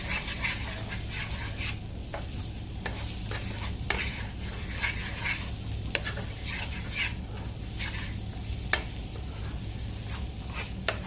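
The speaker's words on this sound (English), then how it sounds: "Now I'm going to add some chopped onions inside. Stir that as well." Chopped onions frying in oil in a pan for smothered chicken and potatoes, a loud steady sizzle broken by repeated scraping strokes of a stirring utensil, close and continuous with no voices.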